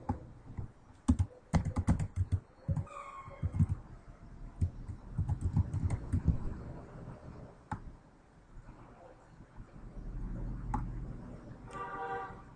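Rapid keystrokes on a computer keyboard in bursts with pauses, a firmer Enter press among them, close and clear with no talking, while entering values into a Spanish-language statistics spreadsheet for a Kolmogorov-Smirnov normality test.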